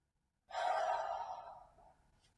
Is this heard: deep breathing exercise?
yes